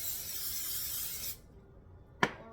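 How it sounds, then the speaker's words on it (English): Two bursts of cooking oil spray onto bread dough in a bowl: a long close hiss that cuts off, a pause of quiet, then a short sharp spritz. "I'm just gonna spray it in here. Put your dough back in there and spray it."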